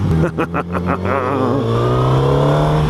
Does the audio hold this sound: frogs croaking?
no